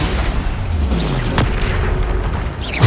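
A Bombarda spell goes off in Hogwarts Legacy as a loud, rumbling blast that fills the whole moment, with swishing magical tones and a fresh boom at the very end.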